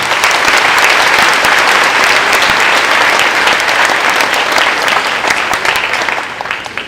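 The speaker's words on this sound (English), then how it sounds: "So how about a round of applause for everyone in the crowd?" An audience claps loudly and continuously at a fourth grade moving-up ceremony, a dense steady burst that carries on for several seconds before starting to fade at the end.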